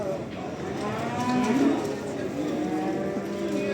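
Calves mooing at a livestock market in Barda, a drawn-out lowing call rising and falling close by over a busy background of other animals and crowd murmur.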